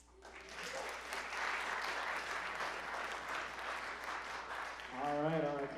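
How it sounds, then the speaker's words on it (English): Audience applause at a comedy show in a theatre: steady, dense clapping from a crowd fills the room throughout, with a voice speaking over it near the end. "Keep the claps going"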